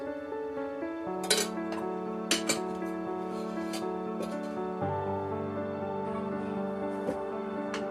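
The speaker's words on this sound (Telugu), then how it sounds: "ఇప్పుడు దీన్ని బాగా కలుపుకోవాలి మెత్తగా" A spoon stirs a rice Manchurian mixture in a bowl, making a few soft clinks and scrapes against the bowl over a steady background hum. It is quiet and near, with no voices.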